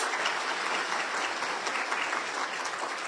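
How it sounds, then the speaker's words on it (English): Audience at a college business luncheon applauds steadily, a dense, even wash of many hands clapping at moderate volume with no voices over it. "she deserves a round of applause"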